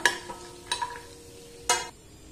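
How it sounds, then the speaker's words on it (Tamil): Raisins and cashew nuts frying in ghee in a pan, a soft continuous sizzle punctuated by a few sharp stirring scrapes, close and fairly quiet with no voices. "இப்போ கிஸ்மிஸ் பழம் பொரிய ஆரம்பிச்சிட்டு இந்த டைம்ல வந்து நம்ம கேஷ்யூ நட்ஸ் அது கூட சேர்த்துடலாம்"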